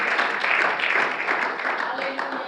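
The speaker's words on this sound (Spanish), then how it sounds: "Dele un aplauso fuerte a Jesucristo, al Rey de Reyes" A church congregation applauds in a dense, steady roar of clapping that holds for the whole stretch, mixed with crowd voices.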